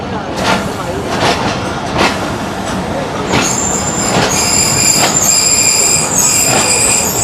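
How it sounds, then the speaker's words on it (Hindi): The Hazara Express train passes close by on the rails in Pakistan, a loud continuous rumble with rhythmic wheel clacks that builds into high metallic squeals from the wheels. "यही हज़ारा एक्सप्रेस जो हवेलियाँ पे जाती है"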